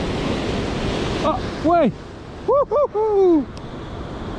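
Surf and breaking waves wash steadily along a rocky coastline during lure fishing for sea bass, a broad continuous roar under a man's short spoken interjections.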